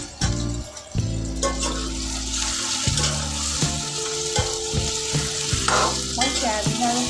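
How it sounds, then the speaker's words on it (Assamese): Soybean chunks sizzle steadily in hot oil while a utensil stirs and scrapes the pan, close and fairly loud, with a low hum and a few clinks underneath and no talking. "মই ইয়াতে চয়াবিনখিনি দি দিছোঁ প্ৰথমতে। আৰু চয়াবিনখিনি দি ভালকৈ একদম ধুনীয়াকৈ এনেকৈ লৰাই থাকিব লাগিব।"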